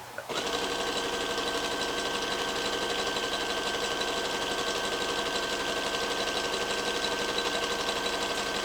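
A sewing machine stitches leggings in one continuous fast whirring run, a steady mechanical buzz close up and even in loudness from start to finish, with no voices.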